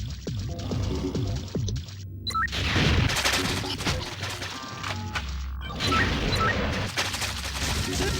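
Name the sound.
Tri-Rocket Launcher firing in Jet Force Gemini video game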